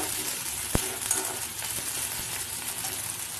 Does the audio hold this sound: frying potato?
yes